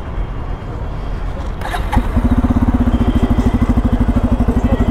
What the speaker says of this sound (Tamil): இதோடைய சவுண்ட் எப்படி கிட்டத்தப்பா பார்க்கலாம். வண்டியை பவர் பண்ணியாச்சு.